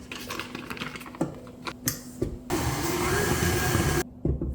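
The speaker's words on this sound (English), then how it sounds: "we'll start by creaming the butter and the sugar. And we'll let that cream together for about a minute." An electric mixer creams butter and sugar for pumpkin streusel bread, first with clattering bursts as the beaters catch, then a steady whirring run before stopping, with a few knocks afterward.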